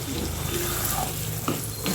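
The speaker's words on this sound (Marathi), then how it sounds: "आता याला मिक्स करून हे सर्व परतून घ्यायचं आहे, नाहीतर खाली करपण्याची शक्यता असते." Fenugreek batter with chillies is stirred and sautéed in hot oil in a pan, giving a steady, close sizzle and frying hiss with a faint scrape near the end.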